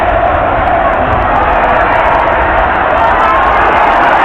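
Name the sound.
football crowd cheering after Sunderland goal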